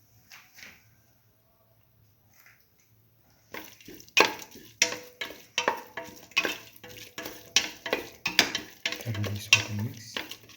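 After several seconds of near silence, a spoon stirs salted split mung bean tomato rice in a pan in a steady run of rhythmic scraping strokes, close up, with a faint sizzle beneath.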